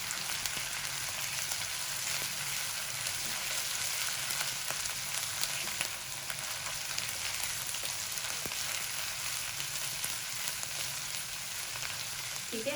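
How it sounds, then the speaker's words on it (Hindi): Onions frying with ginger and garlic in a pan give a steady, dense sizzle with faint stirring scrapes that stays even and close throughout, without talk. "1 मिनट के लिए हम इसको भूनेंगे अदरक लहसुन के साथ"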